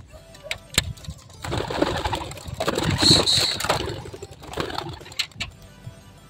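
Seven racing pigeons flutter and coo as the flock is released and takes off, with wing flaps and rustling building in the middle, over faint engine hum.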